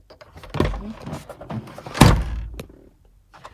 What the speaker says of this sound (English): And then you just open the door.